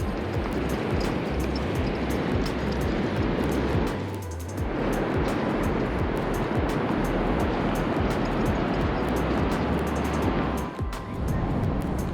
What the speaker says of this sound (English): We're just walking on the beach.